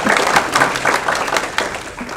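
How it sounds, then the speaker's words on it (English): Audience applause at a county board of education meeting, a steady patter of clapping from a seated crowd lasting a couple of seconds, moderately loud and fairly close. "Please give him a round of applause."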